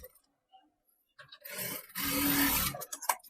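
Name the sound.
sewing machine stitching kurti fabric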